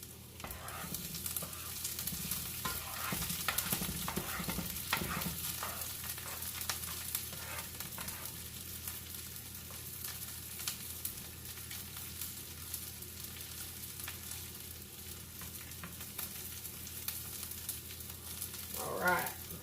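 Garlic sizzles steadily in a pan for the whole stretch, a constant frying hiss with occasional scrapes and knocks from a wooden spoon stirring it, no voices.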